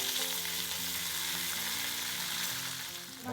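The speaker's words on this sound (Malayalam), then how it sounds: "അപ്പോൾ കടുക് പൊട്ടിത്തുടങ്ങിയിട്ടുണ്ട്" Mustard seeds and dried red chillies splutter and crackle in hot oil for a tempering, a dense steady sizzle heard close up with no talking.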